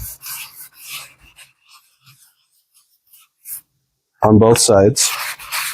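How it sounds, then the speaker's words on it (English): Sandpaper rubbed over a laser-cut balsa wood sheet of model rocket fins, a few soft scratchy strokes early on, then someone speaks briefly. "Simply take sandpaper and rub over the fins"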